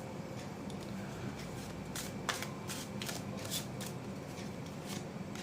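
Tarot cards are shuffled up close, a soft riffling and flicking of the deck that grows into sharper slaps in the middle, with a faint background hum and no talk.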